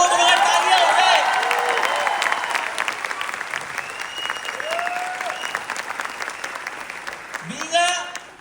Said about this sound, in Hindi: आप सब लोगों को तालियां हो जाए।